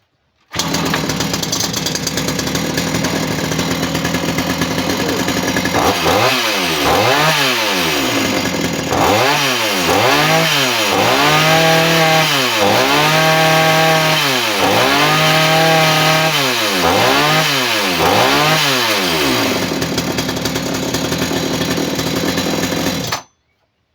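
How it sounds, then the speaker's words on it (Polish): A chainsaw's two-stroke engine is being tuned at the carburetor, holding a steady loud idle, then revving up and down in repeated bursts before settling back, close and continuous with no talking. "pilarkę trzeba gorącą regulować, tak? No, no, no wkręca się na obroty, no."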